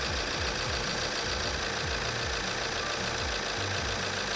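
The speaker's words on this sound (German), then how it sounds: "Motor starten bitte." Diesel car engine with a common-rail system, already running at idle, a steady low rumble with a faint regular knocking pulse throughout and no voices.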